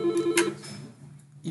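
A Karel IP desk telephone rings with a short electronic tone pattern, brief and moderately close, with no voices over it.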